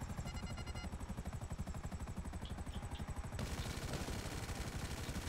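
Rapid automatic gunfire from a GTA V mission, a steady rattling stream of shots close and loud, shifting to a denser burst partway through.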